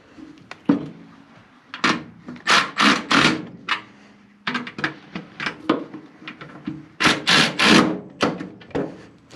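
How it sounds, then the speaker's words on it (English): A ratchet with a 14 mm socket tightens the right-hand grip bolts on a Kubota L-Series tractor, giving close, sharp clicks and knocks in uneven bursts with short pauses between them. "we are gonna go ahead and get these tightened up real quick with our 14 millimeter socket"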